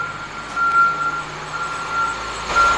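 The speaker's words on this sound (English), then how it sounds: "it's just a construction vehicle backing up. That's what that noise is." Construction vehicle backing up along a riverside trail on the Susquehanna, its steady high reversing beep repeating in the distance under continuous outdoor background noise, with no talking.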